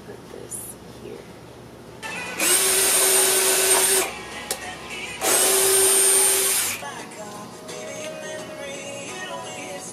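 A power drill boring into wood while building outdoor window planters, with two loud whirring bursts of roughly a second and a half each, separated by a short pause, over quieter background noise.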